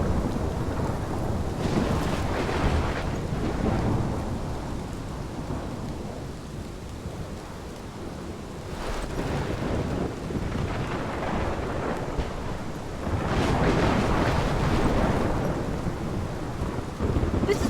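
A thunderstorm in Life is Strange, with steady heavy rain and gusting wind under rolling, surging thunder that swells loudly several times over a continuous roar.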